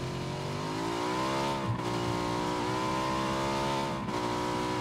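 A vehicle engine in the video game PUBG drones and revs continuously at close range, its pitch rising and dipping slightly as the car is driven.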